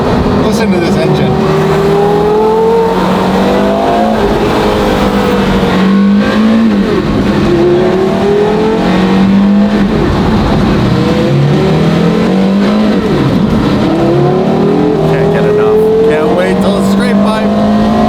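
A Ferrari F12 twin turbo engine drones loudly from inside the car while driving, its pitch climbing and falling steadily through repeated revving sweeps with a smooth, constant roar throughout.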